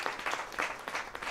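A church congregation claps in praise of God, quiet rhythmic clapping with regular pulses, fairly soft and even throughout the short moment.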